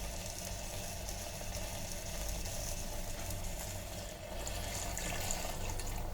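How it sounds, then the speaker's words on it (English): Water poured into thick egg masala gravy cooking in an electric kettle, a steady hissing, sizzling pour that runs continuously and fairly close without any talk. "now we'll add water."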